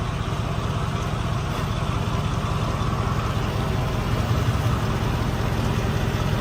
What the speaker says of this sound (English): Got a little bit of an exhaust leak there.